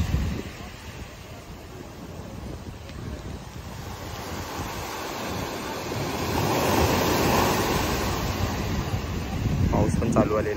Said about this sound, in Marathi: समुद्र पण खवळलेला आहे